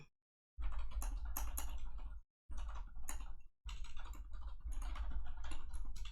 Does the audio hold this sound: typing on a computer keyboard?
yes